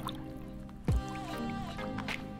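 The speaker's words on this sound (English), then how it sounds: "I'm just squishing mine out so it's not dripping everywhere." A water-soaked white shirt is squeezed by hand before tie-dyeing, giving a brief wet squish and a trickle of dripping water, close up and with no talking.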